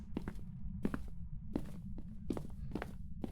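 Footsteps in the game Phasmophobia, five or six evenly spaced, firm thuds over a low constant hum, fairly close and clear with no talk.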